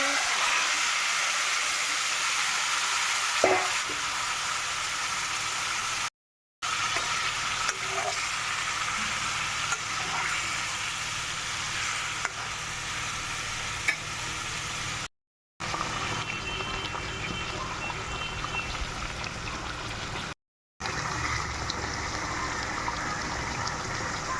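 Hilsa fish frying in oil over a tempering of cumin and mustard spices, a steady broadband sizzle running throughout with occasional stirring clatter and brief breaks.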